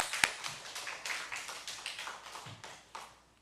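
Scattered claps in a church revival service settle into slow, rhythmic clapping from a small group, fading toward the end.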